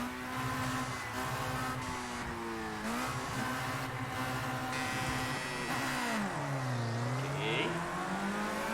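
A race car engine in a racing video game, played with a Thrustmaster open wheel add-on, revs and drops repeatedly, its pitch climbing and sagging steadily, while a voice briefly speaks one word.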